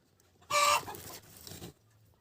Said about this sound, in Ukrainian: Курка кричить.